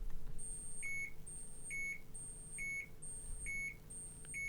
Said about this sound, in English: Would you respond to that alarm?